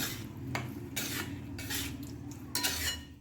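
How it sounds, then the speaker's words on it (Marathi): Wheat flour slowly roasting in ghee for sheera, with a spoon scraping and stirring in the pan in several short strokes over a soft, steady sizzle, close up and without talk. "चला आता आपण छान याला परतून घेऊया।"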